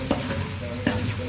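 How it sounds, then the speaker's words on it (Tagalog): Food stirred in a frying pan over low sizzling, with two distinct scraping strokes of the utensil against the pan close by, no talking. "Haluin lang natin."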